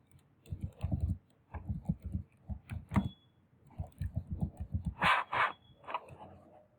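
Typing on a computer keyboard to register an account, quick bursts of close key clicks with short pauses between runs and a few sharper taps near the end.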